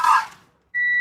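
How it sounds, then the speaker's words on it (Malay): A Proton Iriz 1.3 sounds a steady electronic warning beep while the engine cranks, with a brief mechanical burst just before the tone comes in. "Jadi kalau dia bunyi bip begini, kita crank pun dia bunyi bip juga."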